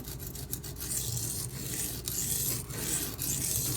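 A lockback knife blade, an NRA CM1300145, is drawn across a sharpening stone in steady, close rasping strokes with brief pauses between passes, no voices.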